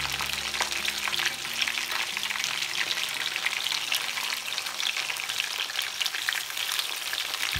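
Pieces of restaurant-style chilli chicken fry vigorously in a pan as they are turned over, with a dense, continuous sizzle and crackle and occasional scraping stirs, close and fairly loud with no talking.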